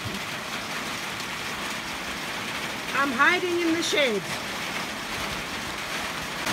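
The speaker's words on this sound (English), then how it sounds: "A serious downpour." Heavy rain pours steadily onto a shed roof at an off-grid property in Portugal, a dense constant hiss throughout, while a person speaks briefly midway.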